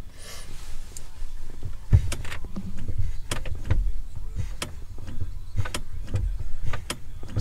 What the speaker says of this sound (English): So you can hear that click every time you hit the brakes.